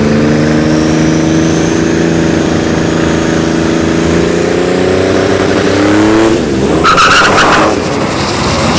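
Drag racing cars launch down the strip at a dragstrip test-and-tune session, including a V6 Turbo Mustang; loud, close engines roar and rise in pitch continuously, with a sharp burst of tire and engine noise near the end.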